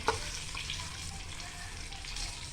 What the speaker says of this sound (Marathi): इथे आपण तेल तापवा ठेवलं, आपण त्यात टाकूया ते आता फ्राय करायला